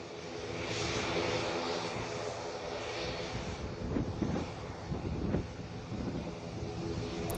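Fighter jet landing on the Purvanchal Expressway, a loud sustained roaring engine rush with gusty wind buffeting and a few rumbling surges toward the end, no talk.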